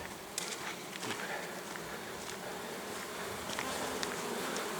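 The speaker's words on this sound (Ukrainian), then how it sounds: "Ось так бджола тікає у вулик від дощу." Honeybees buzz steadily in a thick, continuous drone as they fly back into the hive to escape rain, many insects close by with occasional louder passes near the microphone.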